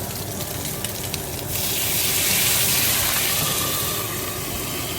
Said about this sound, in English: Then I'm going to add about a 1/4 cup or maybe less of water.